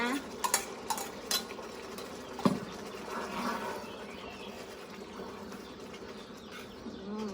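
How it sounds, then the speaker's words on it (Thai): A spoon stirs fried shallots and chili in a pan with a few close metallic clinks and taps, then soft continuous scraping under a faint background hum. "คนให้เข้ากัน"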